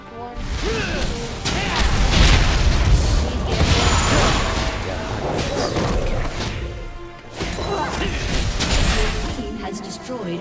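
Destruction of a turret in a video game, a loud crashing, booming burst with smashing debris and whooshes that stays dense for several seconds, dips briefly, then swells again.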